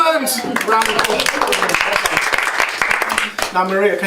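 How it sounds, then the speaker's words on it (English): A round of applause and clapping from participants at a music workshop, dense and steady for about three seconds, with voices talking just before and after. "Round of applause."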